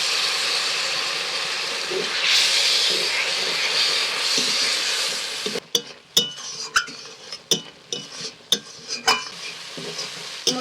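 Ground chilli, cumin, turmeric and salt frying in a pan for a pangas fish curry as a little water goes in: a loud hissing sizzle for several seconds, then a quieter simmer broken by sharp, rhythmic stirring scrapes.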